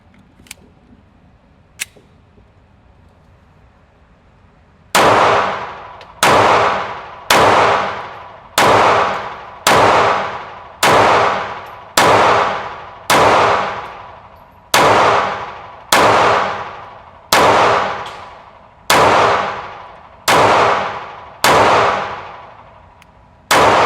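A Glock 17 pistol fired outdoors in a steady string of about sixteen loud, sharp shots spaced roughly a second apart, each with a ringing decay, preceded by a couple of faint distant pops.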